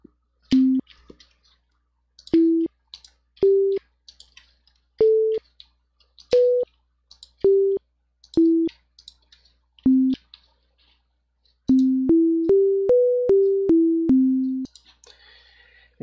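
Short chiptune synth notes demonstrating the release rate setting, a series of clipped beeps at shifting pitches separated by silence, ending in a quick rising and falling run of notes, the last one lingering slightly longer.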